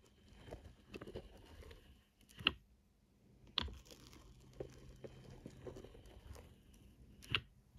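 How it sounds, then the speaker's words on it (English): Diamond painting drills are pushed into line with a straightening tool, making soft, faint clicks and gritty patter, with a few sharper ticks standing out against a quiet background. "you should possibly hear some of the drills actually clicking in place."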